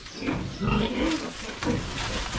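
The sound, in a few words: piglets squealing on a pig farm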